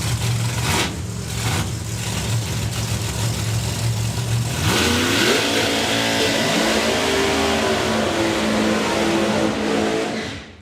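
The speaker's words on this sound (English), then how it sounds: "burnouts are pretty smoky and lively today, which is a good problem to have" A drag racing car at a summer nationals event does a burnout on a hot, sticky track: a loud engine roar climbs into a sustained high rev and holds, with no break, until it drops off at the very end.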